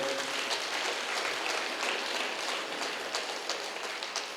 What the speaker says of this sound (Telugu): ఒకసారి గట్టి క్లాప్స్ కొడదాం